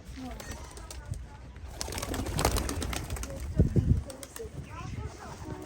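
Pigeons coo in a household loft, the soft repeated calls mixed with a voice talking nearby and some clattering.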